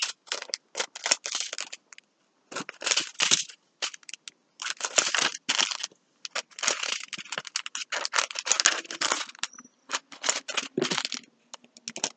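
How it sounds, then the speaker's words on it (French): Scissors snipping and crinkling diamond painting supply packets, a long run of quick, close, dry cutting and rustling bursts separated by short pauses. "Je découpe comme ça, après je ferai moins de bruit."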